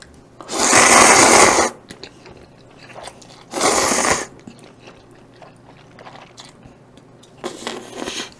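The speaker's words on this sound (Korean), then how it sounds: "바삭바삭하고 그것보다 면의 식감이 되게 신기해요" Crunchy fried chewy jjolmyeon noodles and cheese sticks being eaten up close, with two long loud bursts of crisp biting and crunching, then quieter chewing and a third crunch at the end.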